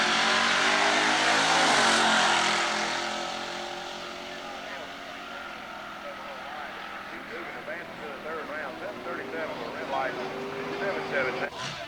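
At Southeastern Dragway a drag car roars loudly at the start, then its big-block engine fades into a throaty, wavering revving tone while an announcer talks throughout.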